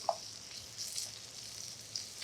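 Pork cheek guanciale browning in a pan gives a faint, steady sizzle with a few soft crackles, quiet and close, no voices.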